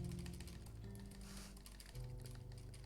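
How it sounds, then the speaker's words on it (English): Frantic keyboard slamming on a computer while playing Just Monika yields a close, steady rattle of rapid key clicks with varying intensity and no voices. "Keyboard slamming ASMR."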